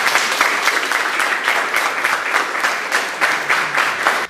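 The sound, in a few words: thunderous audience applause after mini concert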